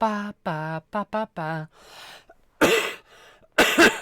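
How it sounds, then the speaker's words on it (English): A person coughs loudly and harshly twice, close to the microphone, following a short stretch of sung syllables and a breathy exhale. "Sorry for coughing."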